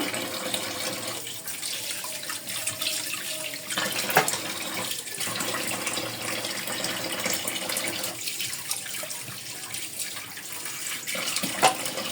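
Running tap water pours steadily as raw chicken pieces are rinsed in a sink, a continuous close splash with brief surges and slight pauses in the flow, no voices.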